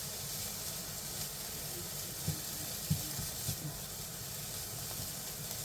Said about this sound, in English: all we're going to do is we're just going to sweat this onion down